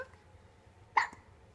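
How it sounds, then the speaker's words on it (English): A baby gives a single short, sharp hiccup, close and clear, in an otherwise quiet room. "Uh-oh, you got the hiccups."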